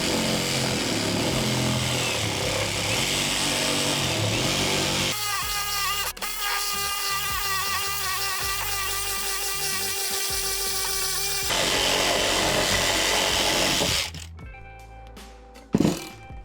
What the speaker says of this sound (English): I'm going to use a Sawzall and try and make a nice straight cut